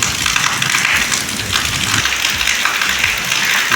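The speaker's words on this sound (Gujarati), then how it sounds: "વરસાદ બહુ પડ્યો" Heavy rain pours steadily during a thunderstorm in a Gujarat village, a dense, loud hiss of drops hitting surfaces throughout with no break.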